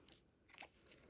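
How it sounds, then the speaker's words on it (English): Scissors give a single snip into fabric while a zipper is shortened for bag making, a brief crisp cut near the end after quiet handling sounds. "Just put a snip there."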